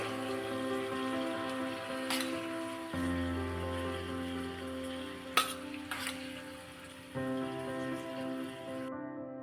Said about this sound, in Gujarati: હવે ગરમા ગરમ વઘાર આપણે ઢોકળામાં એડ કરી દઈશું